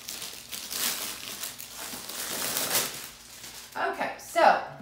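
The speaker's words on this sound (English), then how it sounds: "Sorry, crinkling." Plastic packaging of a coloring and diamond painting craft item crinkles and rustles as it is opened, a steady close crackle through most of the stretch ending in a few sharper, louder crinkles.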